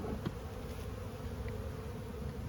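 Honey bees buzz in a weak, nearly dead-out hive holding little honey, a steady close drone of many insects layered over a low rumble, with no voices.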